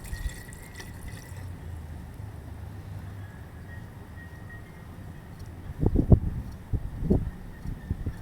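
Liquid is poured out all at once during a chemical processing job. A low, steady hum carries on for several seconds before a few short, close splashing pours near the end.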